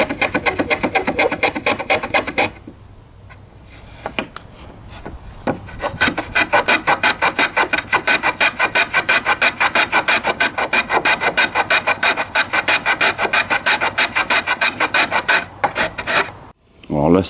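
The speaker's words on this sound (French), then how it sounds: "je termine les petits chanfreins qui sont pas faits de l'autre côté" A hand file rasps small chamfers on the edges of wooden decking boards, making long runs of fast, even back-and-forth strokes, loud and close, with one short pause.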